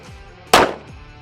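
A single sharp 9mm pistol shot, the last in a string, cracks loud and close, then a short decaying echo follows in an otherwise quiet space.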